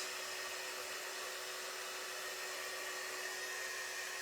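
A hair dryer blows steadily on craft leaves, a constant close whooshing roar with an even hum that holds unbroken for the whole stretch, with no talking.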